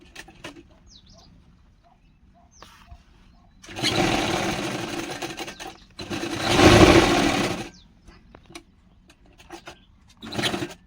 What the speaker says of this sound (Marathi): आपण आता टक्स मारून घेऊया